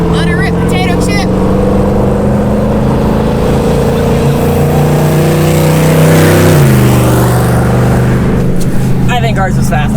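A Jeep engine on an off-road trail revs hard and roars loudly and close for the whole stretch, pitch climbing and dropping as it accelerates, with voices faintly audible at the start and end.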